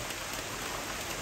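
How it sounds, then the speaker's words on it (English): Steady rain pours at the Kakum National Park canopy walk in Ghana, a dense continuous hiss filling the whole moment with no voices. "where the canopy walk begins, the rain started."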